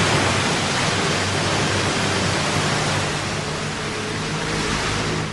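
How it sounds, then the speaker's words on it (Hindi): Ocean waves wash in at the shore as the tide rises and falls, a loud, steady broadband roar of surf with no distinct breaks and no voices. "जहां समंदर जमीन से मिलता है, वहां पानी हर समय एक नियमित रूप से चढ़ता और उतरता है, जिसे टाइड्स कहते हैं।"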